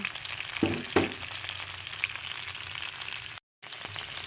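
Tomatoes sizzling and being stirred in a pan while sautéing for a mung bean stew, a steady hiss of frying with a couple of soft utensil scrapes, close up and without talk, briefly cutting out near the end.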